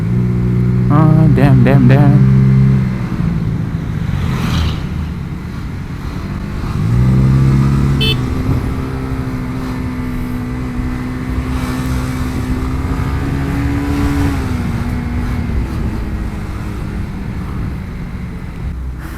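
Mazda RX-8 with an Akrapovic exhaust revving loudly and close, with a sharp rise in revs partway through over a steady, droning engine note; a voice speaks briefly.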